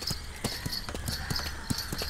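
A horse on a beach at Kozhikode clip-clops along in a steady rhythm of hoof strikes, close and moderately loud, with no talking.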